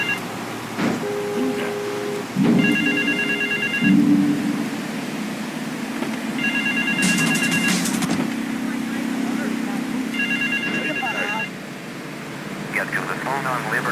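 In Grand Theft Auto 3 The Definitive Edition, a telephone rings in three separate bursts of bright electronic trills, heard over game engine noise while people talk.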